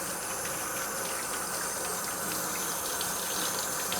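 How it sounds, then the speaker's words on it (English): Tap water runs steadily into a kitchen sink while hands are washed beneath it, a constant close gushing hiss with no talk. "Let me give my hands a little wash too."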